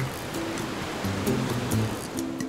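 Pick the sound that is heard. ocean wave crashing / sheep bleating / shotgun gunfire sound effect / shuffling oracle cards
ocean wave crashing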